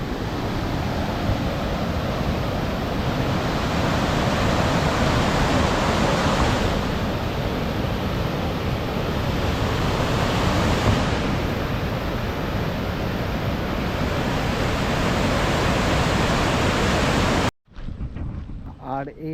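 Water rushes through open dam gates at Mukutmanipur, a loud, steady broadband roar that runs unbroken, with wind buffeting the microphone, before it cuts off abruptly near the end.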